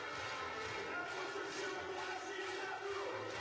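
Crowd noise fills a basketball arena during a Basketball Champions League game between SIG Strasbourg and AEK Athens, a steady, dense roar of many voices that holds at an even level throughout.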